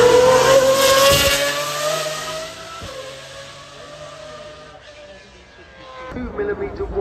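A track-only 1970s race car engine screams up toward 9,000 RPM, a loud, high-pitched wail that drops in pitch and eases off, then builds again at the end.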